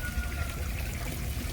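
Water drains out of a backyard koi pond with a soft, steady trickling and pouring sound, faint and continuous over the brief moment.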